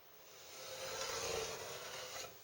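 A marking gauge drags across a wooden board, scribing a line for hand-cut dovetails in a soft, continuous rub that swells and fades over a couple of seconds, close and quiet.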